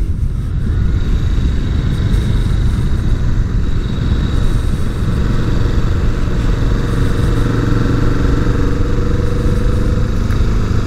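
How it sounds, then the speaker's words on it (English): A 2020 Kawasaki Vulcan S motorcycle engine rumbles steadily and loudly throughout while riding at night, with constant wind noise and no talking. "Riding the Vulcan S, lot of fun."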